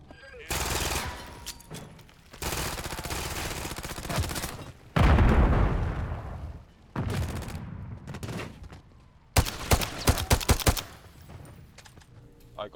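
Rapid automatic gunfire in the shooter Modern Warfare 3, several loud bursts separated by short pauses, one heavy blast in the middle and a final quick string of shots, with some voice chat mixed in.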